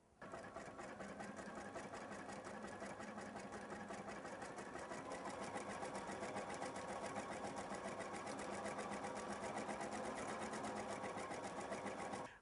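A Bernina sewing machine stitches decorative rows on quilt squares, a fast, steady, close needle rattle that runs without pause for about twelve seconds with no speech.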